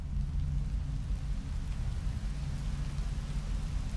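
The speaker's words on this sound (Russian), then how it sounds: "Дождь начинается!" Rain begins in the video game Rain World as a low, steady rumbling patter, fairly faint and continuous, with no voices.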